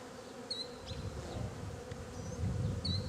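Honeybees buzz around an opened beehive, a steady close droning hum with individual bees whizzing past near the microphone.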